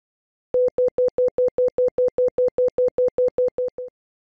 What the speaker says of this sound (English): This will play a sound in the station speaker so you know which one it is.